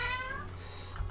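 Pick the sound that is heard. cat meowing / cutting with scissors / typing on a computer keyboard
cat meowing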